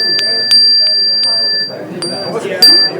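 A small bell rings a few bright, clear times in quick succession, with a person speaking in between the rings.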